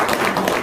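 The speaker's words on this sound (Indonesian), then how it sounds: "Sip, tepuk tangan dong." A crowd applauds at a casual indoor gathering, a short burst of dense, steady clapping heard up close.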